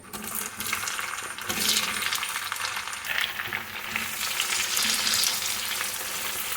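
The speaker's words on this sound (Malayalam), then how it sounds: "ബട്ടർ ഇപ്പോൾ കംപ്ലീറ്റ് മെൽറ്റ് ആയിട്ടുണ്ട് നമുക്കിതിലേക്ക് ചക്കപ്പഴം കുറേശ്ശെ ചേർത്ത് കൊടുക്കാം" Pieces of ripe jackfruit sizzle and fry in melted butter over medium heat, with a steady close hiss and occasional scraping and stirring noises from the pan, with no voices.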